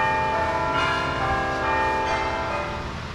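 A bell rings with sustained, overlapping tones and steady resonance, loud and close, slowly decaying toward the end.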